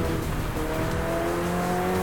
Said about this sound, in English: I want to listen to what the car sounds like, not this rubbish.